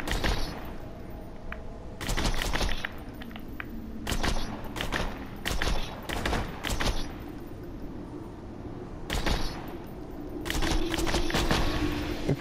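Bursts of assault rifle fire from a Jacob's-made gun in the video game Borderlands 2, several sharp repeated volleys of gunshots separated by short pauses, loud and close with no talk.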